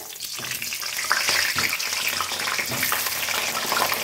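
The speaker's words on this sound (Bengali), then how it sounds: "একটা সর্ষের তেল দিয়ে দিচ্ছি, আলুটা ভেজে নেব" New potatoes frying in mustard oil in a pan, giving a steady, dense hiss and crackle that runs throughout with a few brief clinks and stirring scrapes, close and fairly loud, with no talking.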